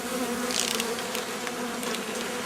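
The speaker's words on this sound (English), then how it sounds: "Regular worker bees." Honeybees buzz steadily around an open hive during a spring inspection, a continuous close drone with individual bees passing near.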